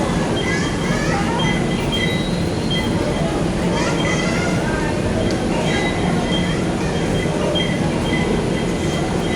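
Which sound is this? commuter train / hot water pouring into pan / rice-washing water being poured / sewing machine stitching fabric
commuter train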